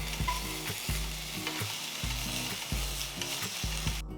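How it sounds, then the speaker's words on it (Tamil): A spoon stirs ginger garlic paste into frying onions rhythmically in a sizzling pan, each scrape repeating about every half second over a steady frying hiss, close and clear. "இதுல 1 டீஸ்பூன் இஞ்சி பூண்டு விழுதை போட்டு கிண்டுங்க"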